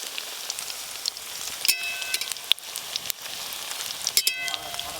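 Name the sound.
pea koftas frying in vegetable oil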